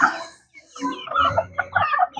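Pet chickens being fed garlic while sick with colds: several close, loud clucks and throaty murmurs in an uneven, chattering rhythm, with no people talking.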